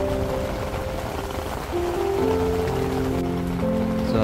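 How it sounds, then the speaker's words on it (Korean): Raindrops patter hard on a tent during winter camping in Korea in a thunderstorm, a thick, continuous close-up drumming with no talk over it. "빗방울 소리가 장난이 아닙니다."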